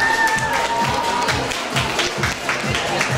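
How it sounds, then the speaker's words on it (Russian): Applause and cheering from a crowd at a 2013 awards ceremony for girls after a group costume parade; dense, lively clapping with some voices mixed in and a brief tonal whistle early on. "Аплодисменты, девчонки"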